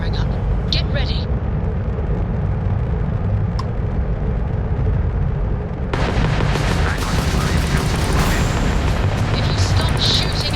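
Spaceship weapons in Starfield combat unleash a dense, continuous barrage of booming blasts and crackling fire, swelling louder and harsher partway through, with a voice speaking over the din.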